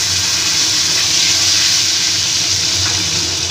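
Cut potatoes sizzle in hot oil with whole garam masala spices, a steady loud broadband hiss and crackle filling the pan throughout without pause.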